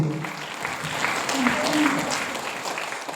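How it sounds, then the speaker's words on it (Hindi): Loud, steady applause fills a DXN seminar hall at Sambodhi resort, many hands clapping densely throughout with a faint voice briefly over it. "जोरदार ताली नितेश जी के लिए।"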